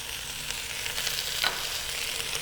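Onions fry in a hot pan with a continuous close sizzle, a dense hiss that holds level throughout and has one brief louder flare near the middle. No voices are heard.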